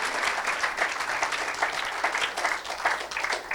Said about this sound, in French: Somebody clap your hand for the Lord